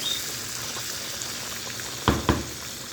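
Fish frying in hot oil, a steady close sizzle and crackle throughout with two sharp pops or clatters near the end, no voices.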